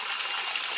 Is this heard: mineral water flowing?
yes